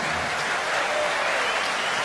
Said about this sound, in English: He'll get a clap when he walks back round